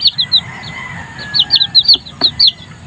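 High, thin peeps from young pet chicks, a quick run of short chirps close by and clear over a low background murmur.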